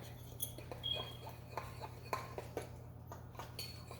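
Dry seasoning of baking powder, paprika, salt, pepper and garlic powder being mixed in a bowl, light repeated tapping and scraping clicks over a low steady hum, fairly quiet.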